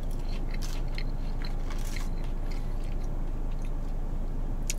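Close, crisp crunching and chewing of golden-brown coated french fries, with sharp bites breaking through a continuous low munching noise.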